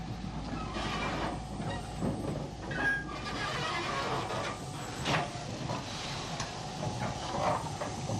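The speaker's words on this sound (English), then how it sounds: "Mogul number 97 heads down to the shed for servicing." Mogul steam locomotive No. 97 rolls toward the engine shed with a continuous low rumble and rattling wheel noise, faint squeals and knocks rising and falling over the steady roar.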